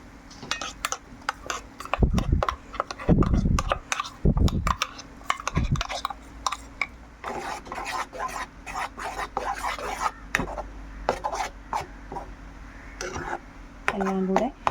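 Spoon scraping and clinking in a pan as ground coconut paste is stirred into beetroot pachadi, with bursts of stirring between short gaps and a speaking voice over part of it.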